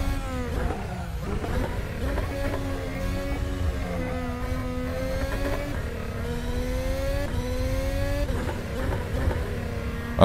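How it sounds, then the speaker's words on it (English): An F1 2022 race car engine in Assetto Corsa drones loudly and continuously at high revs, its harmonic pitch rising and dropping through gear shifts on a track, close and steady with no talk. "a standard track from the Assetto Corsa and this nice F1 2022 car"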